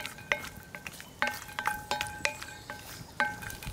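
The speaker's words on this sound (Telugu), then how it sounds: "ఈ నెయ్యి కొంచెం వేడెక్కిన తర్వాత 20 పలుకుల వరకు జీడిపప్పు వేసుకున్నాను" About twenty cashews fry in hot ghee in a pan while being stirred: a steady soft sizzle under repeated light clinks and scrapes of a metal spoon, several per second, close up.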